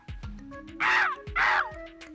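A man imitates a male crow, giving two loud, harsh caws in a row, with short low grunts between them.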